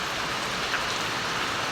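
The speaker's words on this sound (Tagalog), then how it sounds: "So magmula pa kagabi umuulan na dito." Steady rain falling outdoors in a flooded rural area, a continuous even hiss with no distinct drops standing out, no voices present.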